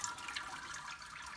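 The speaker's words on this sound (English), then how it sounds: "That water's draining out." Water draining steadily out of a lifted Robobrew malt pipe during an all-grain brew, a soft continuous splashing trickle at low level throughout.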